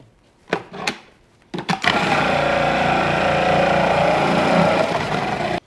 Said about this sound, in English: take 2 red onions and shred them